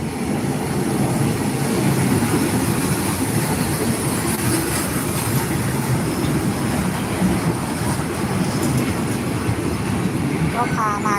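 A local train, number 427, rumbles into Surin railway station in Thailand with steady rhythmic wheel clatter and occasional squeals, close and loud, as a voice talks over it.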